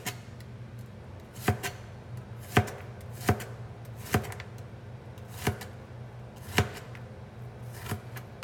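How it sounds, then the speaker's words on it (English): A knife slicing onion on a cutting board, about nine sharp, evenly spaced chops, close and crisp against a quiet kitchen background. "So let's get this onion sliced up with the rest."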